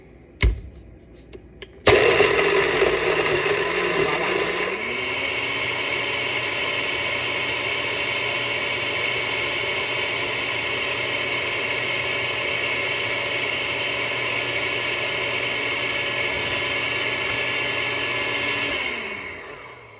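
A NutriBullet blender whirs steadily while blending a smoothie, a loud continuous motor drone that spins up after a brief clatter and runs unbroken, close by, before winding down at the end.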